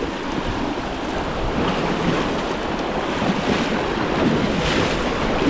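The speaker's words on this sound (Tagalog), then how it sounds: "Grabe po yung agos, ang lalakas." A strong river current rushes steadily as someone wades into deepening water, a loud, unbroken roar of churning flow and wind with no talk.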